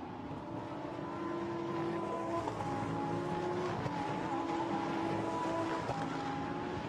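Lamborghini Super Trofeo Europe race cars lapping the Misano circuit, a steady loud engine drone with shifting tones as cars pass, continuous throughout without talk.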